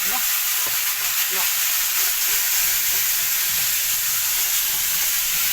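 Spices, including coriander, cumin, chili and ginger, fry in a pan over browned onions for a Nepali pea, eggplant and potato curry, giving a steady, loud, close sizzle with light stirring scrapes throughout.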